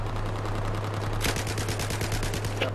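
Rapid automatic gunfire from the video game Battlefield 4 rattles off in a fast, even burst of shots, loud and close, with a brief pause and a final shot near the end.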